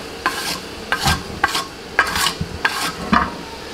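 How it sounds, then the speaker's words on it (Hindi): Cumin seeds roasting on a hot tawa griddle, stirred in about six separate scraping bursts with light sizzling in between, close and clear with no speech. "ज़ीरे को हम जो है ना तवे पर फ्राई करेंगे"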